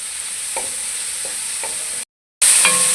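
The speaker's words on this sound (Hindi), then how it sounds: "मैंने इसका तकरीबन 2-3 मिनट के लिए इसको फ्राई करूँगा" Chicken frying in hot oil in a pan, a steady, close hiss of sizzling with a few faint clicks, briefly cut to silence before the loud sizzle resumes.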